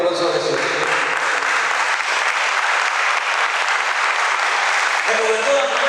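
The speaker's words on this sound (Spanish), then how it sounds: "Denle un fuerte aplauso a Jesús." Church congregation bursting into sustained, loud applause that fills the room steadily for several seconds, with a voice audible briefly at the start and end.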